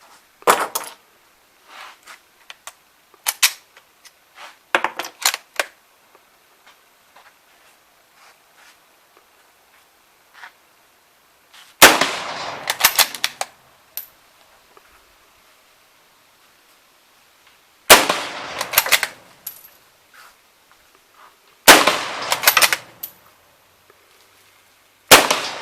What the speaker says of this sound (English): I'm just going to go ahead and fire 5 offhand at the 50-yard target